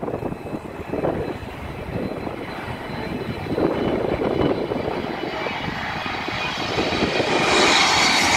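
Jet engines of a Turkish Boeing 777 airliner, a loud continuous roar that swells gradually with a rising whine near the end, with no talk.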